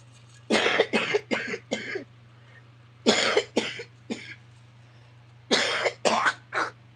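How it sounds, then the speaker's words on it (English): A person coughing through an illness: three clusters of harsh coughs, three or four each with pauses between, loud and close over a low steady hum. "I know I'm still coughing"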